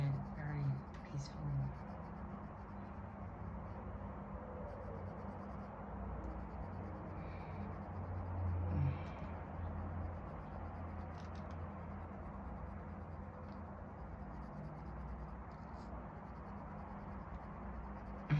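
Pencil coloring in a coloring book, heard as soft, steady scratchy strokes close up, continuing quietly over a low background hum for most of the stretch.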